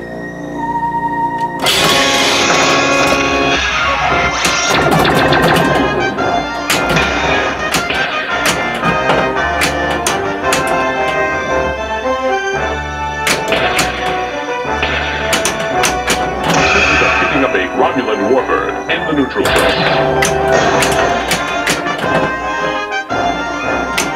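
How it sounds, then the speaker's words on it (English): Star Trek: The Next Generation pinball machine in play: a dense, loud mix of electronic music, jingles, flipper and ball clacks and bumper hits, with synthesized voice effects throughout. "Pinball is kind of hard to record unless you got specialized equipment."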